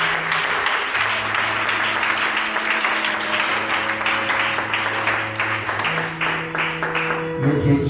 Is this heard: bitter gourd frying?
no